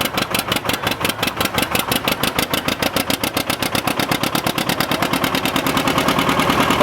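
An old John Deere R two-cylinder tractor engine loaded on a prony brake dyno at Rollag, a loud, close, evenly spaced pop-pop exhaust beat that quickens slightly as it pulls.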